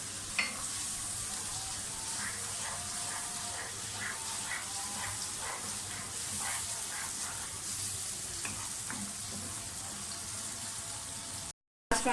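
Onions fry in a pan at a steady, crackling sizzle, with occasional stirring scrapes and clinks, fairly quiet and heard without talk until the sound cuts off briefly near the end.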